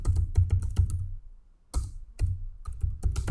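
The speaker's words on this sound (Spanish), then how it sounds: "Tecleamos" Fingers type on a computer keyboard in short bursts of crisp key clicks, with a pause in the middle before the tapping resumes, close and clear with no talking.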